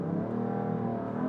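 A BMW M-car, either an M3 Competition or M4 CS, accelerates hard during a launch run, its engine a loud, continuous rising roar heard up close without talk.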